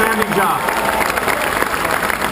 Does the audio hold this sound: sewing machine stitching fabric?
no